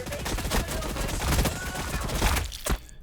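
Rapid overlapping gunfire from squads in Warhammer Battlesector fills a dense battlefield mix, with sharp bursts repeating throughout and a heavier blast near the end, loud and close.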